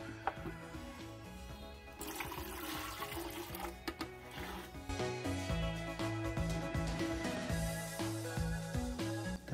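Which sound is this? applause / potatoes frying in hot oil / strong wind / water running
water running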